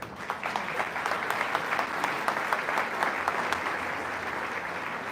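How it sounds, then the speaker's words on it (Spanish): An audience applauds at a Catholic question-and-answer session with Padre Luis Toro, a dense steady burst of many hands clapping close and loud throughout, with no talk over it. "Un aplauso por la hermana."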